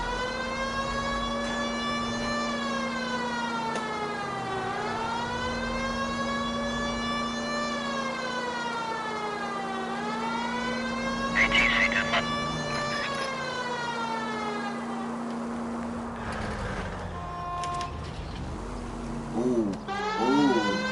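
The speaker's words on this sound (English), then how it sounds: "Y'all hear the sirens?" Police sirens wail in L.A. Noire, a long rising-and-falling tone that holds for most of the twenty seconds over a steady engine drone, fading near the end where a voice briefly talks.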